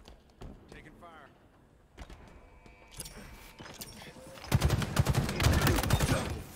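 Gunfire from Halo Infinite comes first as scattered shots and thuds, then builds into a dense, loud volley of rapid fire toward the end, with game voice callouts heard over it.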